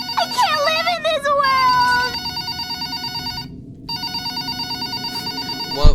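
Telephone ringing in the Five Nights at Powerpuff Girls horror game: a loud, repeating electronic ring with a steady pulsing rhythm that runs through the whole stretch and pauses briefly near the middle.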